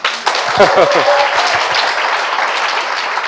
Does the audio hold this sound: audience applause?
yes